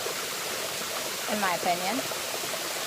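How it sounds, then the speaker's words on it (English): At the base of Ruby Falls, an underground waterfall roars as a steady, diffuse wash of falling water while someone speaks briefly over it. "I am sitting at the bottom of the waterfall."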